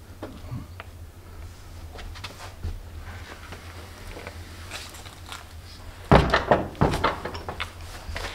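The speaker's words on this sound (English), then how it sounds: "Are you going to shut the door as well for me?" A door at the historic Dode Church in Kent is pushed shut, landing as a solid thunk followed by a second knock a moment later, both loud against a quiet room.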